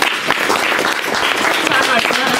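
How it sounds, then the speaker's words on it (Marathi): Audience applauding at a birthday celebration for social worker Ganesh Pawar, steady dense clapping from a crowd throughout, with some voices mixed in. "सर्वांनी एकदा त्यांच्यासाठी टाळ्या वाजवल्या"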